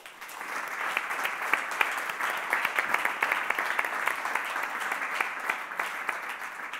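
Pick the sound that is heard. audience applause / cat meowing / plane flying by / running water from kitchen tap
audience applause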